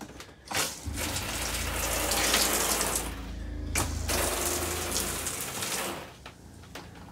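A camper shower runs with a dense, steady splashing spray that fills the space close to the microphone, with brief surges and a short break midway before the flow continues.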